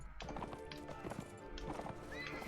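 Horse hooves clip-clop in rapid, uneven beats during a multiplayer castle siege in Mount & Blade: Warband, with a whinny and busy battle noise layered around the steps.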